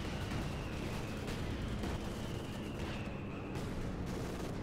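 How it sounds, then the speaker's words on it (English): Dense, continuous artillery barrage in the Company of Heroes 2 game, with rumbling blasts and overlapping booms forming a loud, unbroken wall of battle noise. "Lots and lots of artillery fire."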